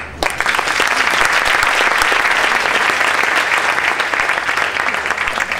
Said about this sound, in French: on peut les applaudir je crois